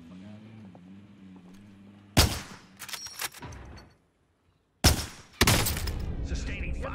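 Gunfire in the video game Call of Duty Warzone on the Verdansk map comes as loud, sharp bursts of shots close by, with a brief silence between two clusters and a voice talking in the clip.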